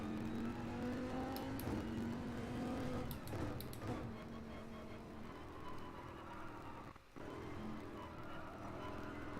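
A car driving in the rain gives a steady engine whir and wash of road spray, continuous and fairly close, with a voice speaking over it.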